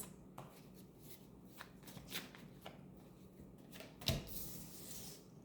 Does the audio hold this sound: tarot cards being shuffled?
yes